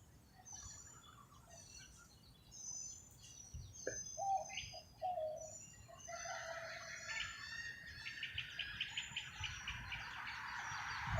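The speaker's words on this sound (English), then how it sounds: "I am hearing the birdies" Several birds chirp and call at a distance, faint overlapping tweets and trills with a rooster-like crow, over a quiet outdoor background.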